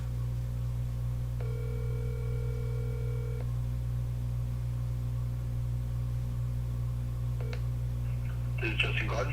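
An outgoing phone call rings in a handset, one long electronic ring tone and then a short second tone before it clicks through to voicemail, over a steady car-like hum with a brief voice at the end.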